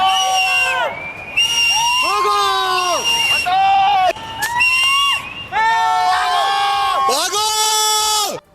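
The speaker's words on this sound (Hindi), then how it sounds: "वहां मौजूद लोगों ने जोर जोर से चिल्लाना शुरू कर दिया ताकि किसी भी तरह कैंप में मौजूद सेना के जवान वहां से हट जाएं" Crowd of people shouting loudly and urgently to warn army soldiers at a camp during a cloudburst flood in Uttarkashi, Uttarakhand; repeated raised, strained voices in overlapping bursts, close and loud, continuing for several seconds.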